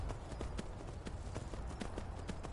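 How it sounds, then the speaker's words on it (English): Hooves of the horse Shadowmere clip-clop steadily in Skyrim, a regular rhythm of sharp, moderately loud hoofbeats over constant game ambience, with no voice. "With the Assassin's questline, you get a horse called Shadowmere."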